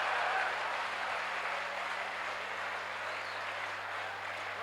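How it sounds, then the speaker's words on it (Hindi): Thin, scattered clapping rises from the crowd at a Hindi hasya kavi sammelan comedy poetry show, a soft, even patter that stays level and slightly faint over a low electrical hum. "ताली कमजोर है यार, व्यंग यही है।"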